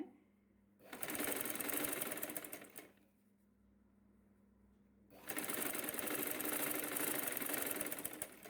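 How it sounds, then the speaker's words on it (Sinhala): A sewing machine stitches the front panel of a saree blouse, running in two steady, close bursts of a few seconds each with a quiet pause between, its whirring motor humming continuously throughout. "ඊට පස්සේ අපි මේ ඉදිරිපස කට් එකේ මේ කොටස මේ ආකාරයට මහනවා"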